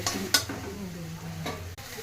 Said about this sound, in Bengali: এবার মশলাটা দিয়ে একটু কষিয়ে নেবো।